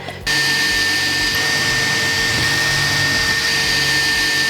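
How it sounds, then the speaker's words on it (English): A steady, loud motorized whine starts abruptly and runs continuously as a power drill bores through an exterior wall and siding up close, with no talking. "now I'm gonna drill through these 3 holes as straight as possible"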